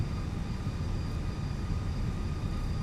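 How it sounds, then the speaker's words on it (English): An Airbus A320 in the Fenix flight simulator spools its engines for a rolling takeoff, giving a steady, loud broadband roar with a faint whining tone and no pauses. "Takes quite a bit of thrust to get it going. We'll just do a rolling takeoff."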